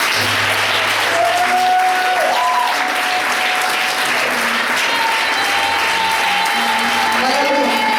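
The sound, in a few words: church congregation applauding loudly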